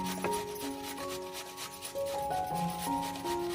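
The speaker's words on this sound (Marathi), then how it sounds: "अशी सर्व काकडी किसून घेऊ" Cucumber being grated by hand, a continuous rhythmic rasping rub, close and fairly quiet, with faint background music tones and no talking.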